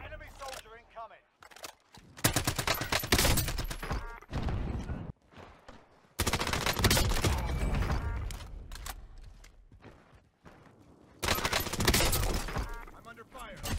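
Gunfire crackles through a Call of Duty Warzone match on Rebirth Island in three loud, dense bursts separated by short pauses, mixed with game effects and a player talking.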